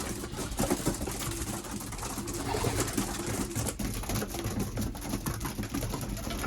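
Racing pigeons coo softly inside a loft, a faint low murmuring amid steady background noise, with no talking.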